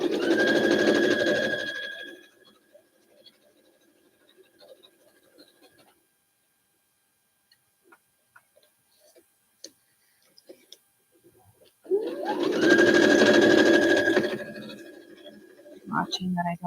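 A sewing machine stitches fabric under a 1/4 inch foot in two bursts of fast whirring, separated by quiet handling clicks, with no talk over the stitching.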